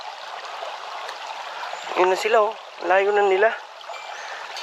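A clear river stream in Matnog rushes in a steady broadband wash throughout, while voices call out briefly over the flowing water midway.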